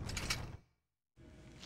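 A door sliding or grinding open in The Warriors video game, with a short mechanical rumble and creak that drops to silence, then a steadier mechanism hum resumes.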